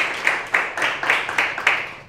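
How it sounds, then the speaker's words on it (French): An audience applauds an author with about six or seven crisp, evenly spaced claps in a quick steady rhythm, close and fairly loud, and no talking over them. "qu'on peut applaudir aussi"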